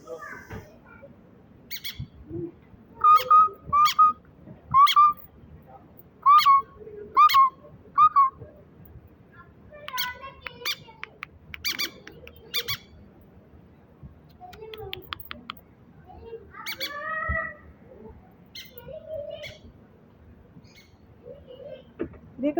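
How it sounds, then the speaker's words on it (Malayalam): Small birds chirp and squawk in bursts, a run of loud sharp calls followed by scattered chatter with a voice talking faintly underneath. "ഈ സൈഡ് ഫുള്ള് കിളികളാണ് കിളികൾ ലവ് ബേഡ്സ്"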